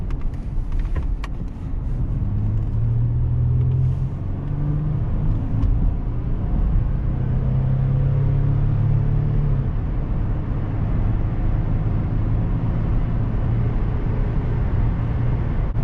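A 2004 Toyota Sienna LE minivan with new tires merges onto a highway at about 65 mph, heard from inside as a steady, close engine and road drone with long, rising engine tones.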